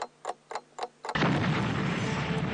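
A powerful bomb blast rips through a meeting hall, preceded by several sharp rhythmic ticks, then erupting into a sudden loud, sustained roar of explosion and debris that fills the rest of the moment.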